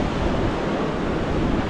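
Rough surf on Pernambuco beach in Guarujá on a cold morning: a continuous broad wash of breaking waves mixed with wind buffeting, steady and loud throughout.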